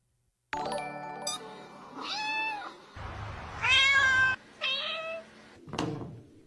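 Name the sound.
cat meowing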